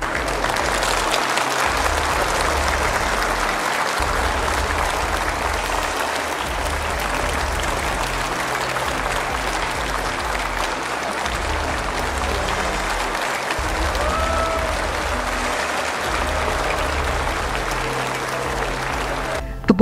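Sustained, loud applause from a big audience at an Indonesian presidential inauguration, a thick unbroken wall of clapping lasting about twenty seconds with faint voices underneath.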